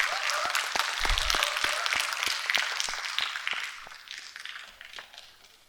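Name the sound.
audience applause welcoming a speaker to the stage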